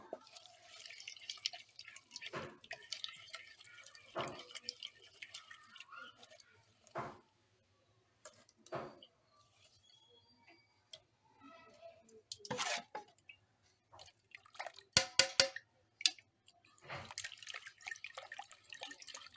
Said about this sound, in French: nous sommes en train de faire passer le placali dans le passoire pour enlever les gestes qui n'ont pas été écrasés